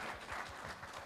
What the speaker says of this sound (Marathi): तर एकदा तुमच्यासाठी टाळ्या होऊन जाऊ देत